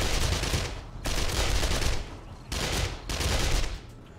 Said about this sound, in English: Pull out the SMG.